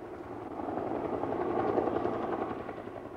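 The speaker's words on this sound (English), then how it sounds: "The Narcotics Brigade helicopter, M60 machine guns at the ready, now flew in a low protective circle around the VIPs" A police narcotics brigade helicopter flies low overhead, its steady rotor drone rising and swelling slightly as it passes, with no other sounds.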